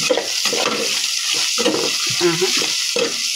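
Flaked fish is stirred into sautéing mung beans for ginisang munggo, giving a close, steady sizzle with repeated scraping stirs throughout.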